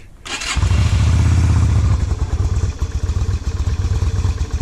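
A cold 250 motorcycle is started with the choke on a cold November day, its engine catching loudly after a brief crank and settling into a close, lumpy, uneven idle with no talking.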